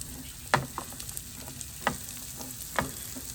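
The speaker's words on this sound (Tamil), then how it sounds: "நாங்கள் இந்த இவ்வளோ வெங்காயத்தையும் போட போகிறோம்" Onions frying with fennel seeds in a pan for a coconut chicken curry, a low steady sizzle broken by three sharp scraping stirs of a spoon against the pan.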